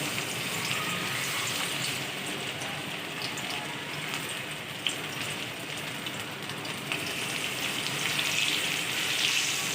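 Fish for Lahori fish fry sizzles steadily in hot oil, a continuous loud hiss and crackle with occasional sharper pops, no talking heard.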